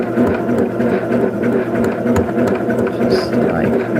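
A sewing machine stitches placemat fabric for a quilted churn dash placemat, a steady close whirring hum running throughout, loud and continuous, with a voice talking over it.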